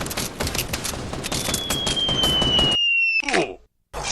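Rapid gunfire in an online shooter game rattles in dense bursts of close shots, with a high whining tone and a brief cutout near the end, while players talk over voice chat.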